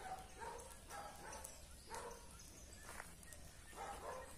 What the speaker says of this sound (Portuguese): cachorro barulhento.